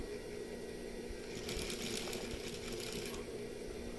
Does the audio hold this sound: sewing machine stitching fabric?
yes